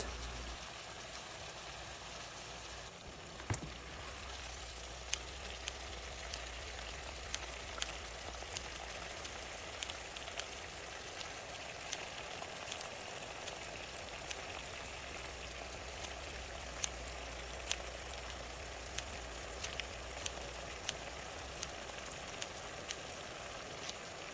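Kimchi and pork stir-frying in rendered pork fat in a pan for a Korean stir-fried kimchi pork dish, giving a steady, close crackling sizzle with scattered small pops throughout.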